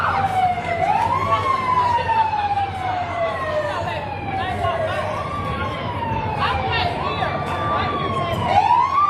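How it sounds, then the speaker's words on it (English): A wailing siren at a strawberry festival parade in North Carolina rises and falls repeatedly over steady background noise, fairly close and continuous throughout. "I hear another siren, which means we're going to see who that is momentarily"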